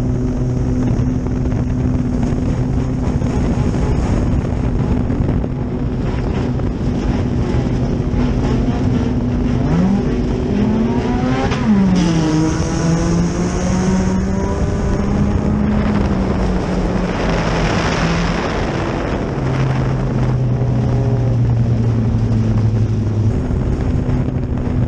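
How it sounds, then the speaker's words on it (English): Sprint car engine roaring steadily from an in-car camera during a front-wheel-drive race at Harris Speedway, loud and continuous with wind buffeting and rising and falling pitch sweeps as the car laps. "We're gonna go ride along with some sprint cars tonight."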